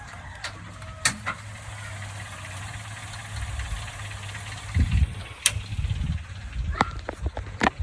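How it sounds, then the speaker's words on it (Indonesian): An idling car engine warms up with a low, steady rumble and rough knocking pulses, a few louder revs and thumps near the end, while people talk nearby. "Manasin mobil."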